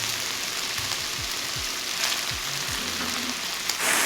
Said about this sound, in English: We're just gonna start fry the onions and zucchini